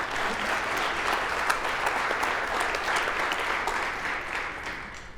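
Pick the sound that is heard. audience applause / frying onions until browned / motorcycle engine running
audience applause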